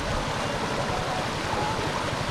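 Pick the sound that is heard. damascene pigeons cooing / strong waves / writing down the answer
strong waves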